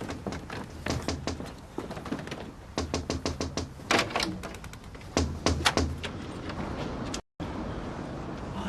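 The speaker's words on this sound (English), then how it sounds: "Someone at the door." Knocking at a house door in a Coronation Street drama scene, several bursts of firm, close raps repeated in quick clusters, fairly loud and standing alone.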